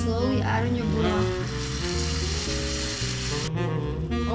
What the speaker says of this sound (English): Add in your rice and let it cook for 2 minutes